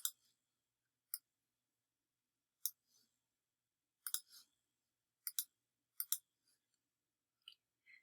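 Computer mouse clicks sound close and crisp in a quiet room, sharp isolated taps coming in sparse, irregular singles and quick pairs.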